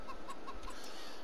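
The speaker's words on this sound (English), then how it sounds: "You also got chickens here." Chickens on a farm in the Farming Simulator 22 video game give four short, evenly spaced clucks, faint over a soft ambient hum.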